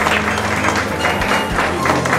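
Loud, dense applause from guests at a quinceañera celebration greeting the entrance of a young couple, a close, unbroken roar of many clapping hands with no talking.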